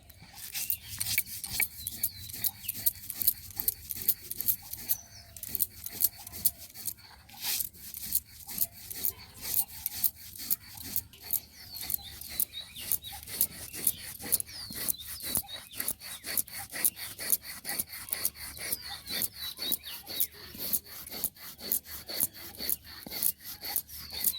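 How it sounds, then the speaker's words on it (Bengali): Dried red chili and salt are ground together by hand, making a quiet, steady series of rhythmic rasping strokes that continue throughout. "আর লবণ একসঙ্গে দুটো আমি বেটে নেবো"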